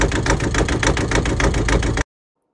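A replacement inboard engine on a Pacific Seacraft Orion 27 cutter sailboat idles with a loud, steady chugging pulse for about two seconds, then cuts off abruptly into silence.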